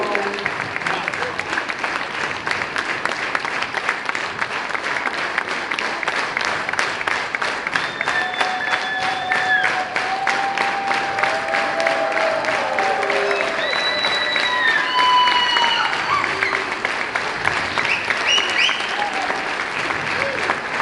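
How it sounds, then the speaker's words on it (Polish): Sustained audience applause fills a hotel hall at a 75th-anniversary jubilee concert of a regional folk ensemble, a dense steady clatter of many hands throughout, with a few whistles and faint voices rising over it. "Dziękujemy, dziękujemy serdecznie za te oklaski"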